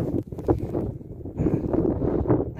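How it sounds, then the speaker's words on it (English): A strong outdoor wind pummels the microphone on an open field during metal detecting, making a dense, fluttering low roar that barely lets up. "It's getting proper windy now."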